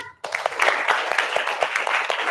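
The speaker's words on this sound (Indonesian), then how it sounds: "Tepuk tangan dulu." A classroom of students claps hands together after a brief silence, a dense, steady patter of many small hands that starts abruptly and keeps going at even strength, close and lively.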